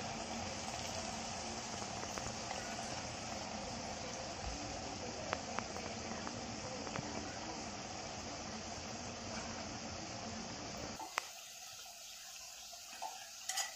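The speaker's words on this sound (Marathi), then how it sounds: "कढईमध्ये फ्राय करतोय।" Vadas deep-frying in oil in a kadhai, a steady dense sizzle that runs continuously for most of the time before suddenly dropping away, with a few faint clicks and no talking.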